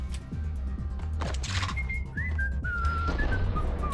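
Someone whistles a short melody in clear, sliding notes over a steady low rumble of background noise in the video game Max Payne.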